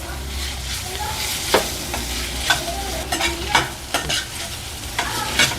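Green chillies and ginger garlic paste frying in a pan for onion samosa filling, a steady close sizzle with several sharp stirring scrapes over a low rumble, no talking.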